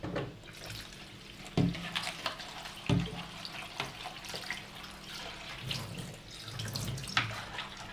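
A kitchen tap runs steadily while lettuce is washed under it, the water hissing and splashing with a few irregular thumps and drips. No talk is heard.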